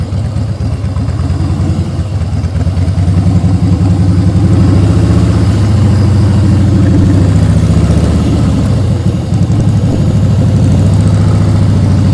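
Motorcycle engine running close during slow-speed riding practice, a loud, steady low-pitched drone with throttle rising and easing in gentle swells throughout.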